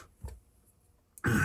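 A single rough throat-clearing cough bursts out loud and close near the end, after a faint short huff and near silence.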